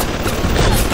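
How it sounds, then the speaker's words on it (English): Dense, continuous gunfire from the video game BioShock, loud and close, forming a steady barrage with no clear gaps between shots. "What are you shooting at now?"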